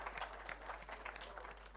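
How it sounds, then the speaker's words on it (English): Faint, distant applause from an audience at a Hub Culture panel in Davos, a soft scattered patter of clapping carried over a low steady hum, quiet throughout and without speech. "can we just give her a big round of applause?"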